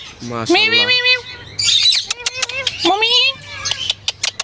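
A tame ringneck parrot at a parrot farm chatters in squawky, speech-like bursts at close range, with sharp chirps and clicks between its talking.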